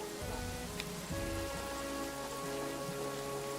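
Steady rain patters under a faint low drone in the trench warfare game All Quiet in the Trenches, a constant soft hiss of drops without pauses.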